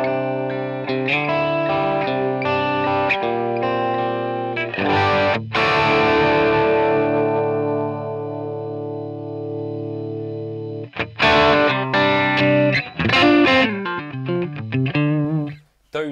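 Electric guitar through a Line 6 Helix Marshall amp model, a chiming clean chord ringing out with long sustain, then a few quick, choppier phrases; loud, close and alone.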